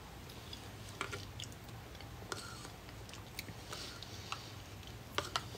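Soft, quiet chewing of rice pudding topped with cinnamon, heard up close as scattered small wet clicks and squelches over low background noise, with no talking.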